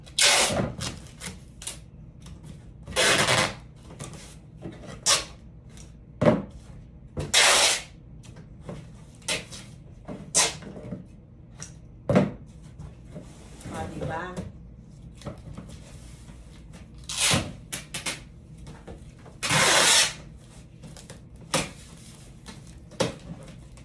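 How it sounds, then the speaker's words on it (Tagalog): Packing tape is pulled and pressed onto a cardboard balikbayan box in repeated loud, tearing rips of about a second each, separated by quieter rustling and handling noises. "Make sure na maayos po yung ating pag-tape."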